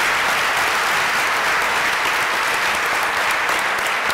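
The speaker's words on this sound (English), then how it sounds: "Could you give them a big round of applause for the volunteerism?" A school honors assembly gives board of education members a dense, steady round of applause that holds at an even loudness throughout.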